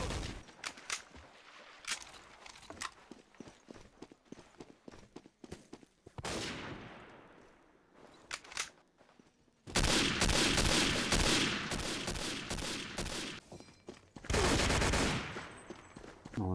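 Rapid automatic gunfire from a competitive online shooter match, dense volleys and bursts with some single shots, loud and close, with long sustained fusillades and brief pauses, mostly without talk.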